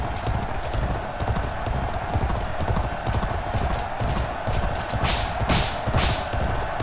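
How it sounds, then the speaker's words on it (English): Racehorse hooves galloping in the video game G1 Jockey 4, a steady dense drumming of hoofbeats across the race, fairly loud and continuous, with a couple of brief whooshing bursts near the end. "Don't mind the horse picking up a little bit of pace now."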